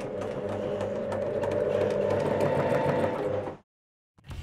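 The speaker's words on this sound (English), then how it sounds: "Pity, the sewing machine needle gets stuck in the glue on the tape." A sewing machine stitches strips of adhesive tape for ornithopter wings, a loud steady mechanical whir that runs continuously for several seconds, then stops abruptly and briefly starts again near the end.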